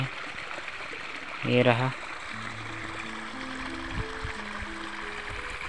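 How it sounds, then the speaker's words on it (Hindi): Water flowing steadily from an irrigation canal by hillside village fields in India, a continuous moderate rush, with someone speaking briefly over it. "इधर से ही पानी आ रहा है नहर से"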